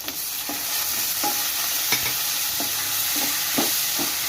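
Onion, garlic and tomato sizzling in a pan for a South Indian kara kuzhambu, a steady frying hiss broken by several sharp scraping stirs of the spoon at irregular intervals.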